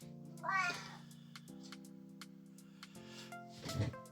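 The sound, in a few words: cat meowing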